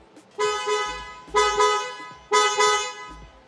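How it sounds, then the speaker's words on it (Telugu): Aftermarket wind-tone horn fitted to a Hyundai Venue car, sounding three loud, close honks of about a second each with short gaps between them. "Horn, wing tone horn installation చేశాను."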